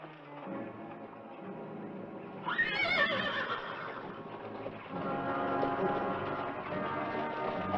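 Horses whinny in an Old West setting, one loud neigh rising sharply midway over a continuous bed of background sound, with further horse noises continuing after it.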